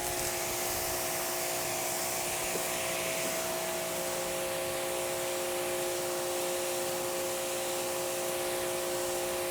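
Water from a hose or pressure sprayer rinses a car coated with Soft99 Fusso sealant, a steady broadband hiss that carries on unbroken and fairly loud with no speech.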